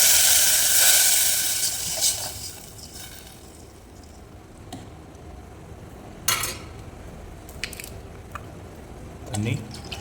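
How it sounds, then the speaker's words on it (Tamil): Water poured into a hot pan of oil and turmeric while cooking jeera pulao gives a loud burst of sizzling hiss that fades, followed by scattered clinks of utensils against the pan. "ஸோ இப்போ தண்ணி ஆட் பண்ணிடலாம்."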